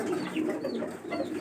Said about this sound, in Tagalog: May mga kalapati pa rin siya rito.